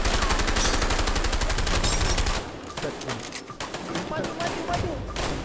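Rapid automatic gunfire in the game A Way Out, a fast, loud, evenly spaced burst lasting a couple of seconds, then scattered shots and impacts as voices talk.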